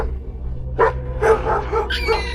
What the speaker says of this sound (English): a dog was barking loudly